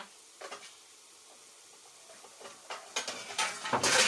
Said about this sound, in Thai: แล้วก็ผัด คลุกคลุกเคล้าเคล้าแบบนี้นะคะ